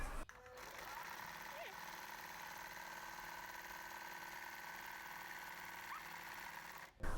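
A domestic sewing machine fitted with an embroidery foot stitches a traced heart shape, giving a steady, continuous motor whir and rapid needle chatter that runs unbroken for several seconds before stopping abruptly.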